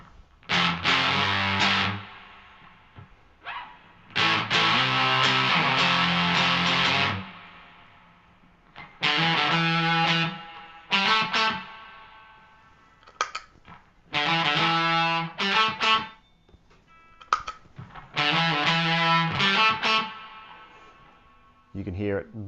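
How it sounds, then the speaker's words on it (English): Fuzzy distorted electric guitar through a Frommel fuzz pedal and reverb pedal, chords ringing out in repeated phrases with a spacious reverb tail, some notes picked singly, playing loud and alone. "And when we turn that reverb on, make that a little more obvious."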